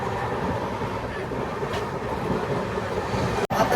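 Inside a Rajdhani Express running at 130 km/h, a steady low rumble of the train carries on throughout, broken by a brief sharp drop near the end.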